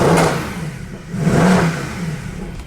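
A Mercedes W204 C63 AMG V8 on its stock exhaust revs loudly up and down in two or three surges, close by, with no one talking.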